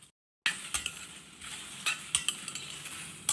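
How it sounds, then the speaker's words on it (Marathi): Sliced okra dry-roasts without oil in a hot kadhai, giving a faint sizzle and scattered metallic clinks and scrapes as a spatula stirs the pan. "आता आपण ना पहिल्यांदा ही भेंडी टाकायची सगळी आणि ना नुसती अशी भाजून घेऊया पहिल्यांदा."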